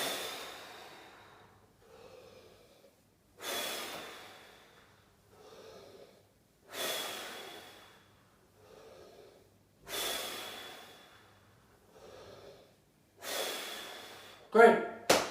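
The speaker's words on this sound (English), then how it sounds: "get used to these breathing exercises while you're standing up" Heavy rhythmic breathing follows air squats, with five cycles of loud sharp inhales each followed by softer exhales, close and with no speech.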